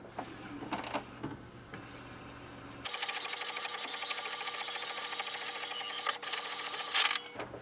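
An HP Envy 6000 printer printing its welcome sheet: a quiet start, then a steady mechanical whirring and clicking run of the feed and print head lasting several seconds, with no talk.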